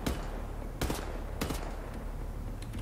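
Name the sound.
machine gun fire in video game Wolfenstein The New Order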